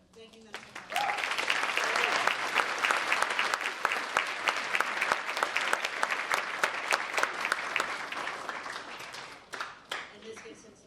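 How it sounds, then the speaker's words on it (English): An audience at a band concert applauds the percussionists with a full, sustained burst of clapping that starts abruptly, holds steady for several seconds, then thins out to scattered claps near the end. "I want to give them a round of applause for thanking them so much"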